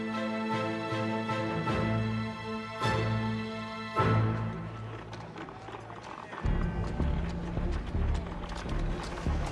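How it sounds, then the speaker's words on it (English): Horses clip-clop with hooves striking the ground in a steady rhythm, accompanied by swelling music, in a dramatized scene around the era of Edison's Pearl Street Station power plant. "the horses will come in"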